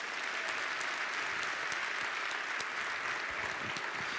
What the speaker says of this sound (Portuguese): Quem é próspero, ele dá um aplauso ao Senhor.